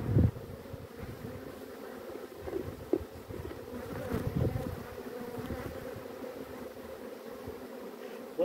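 Honey bees buzz around an open hive while brood frames are handled, a low, steady hum from many bees with faint bumps and rustles throughout.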